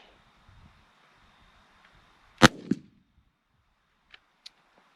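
A single sharp, loud shotgun blast from a Strut Undertaker XT with a super full choke, fired outdoors at a target. A quick echo follows, then quiet with a couple of faint clicks. No one speaks.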